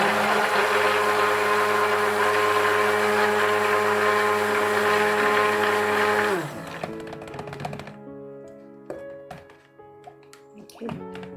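An electric blender whirs loudly and steadily through an egg soap mixture, then cuts off, leaving scattered clicks and taps of the jar and lid.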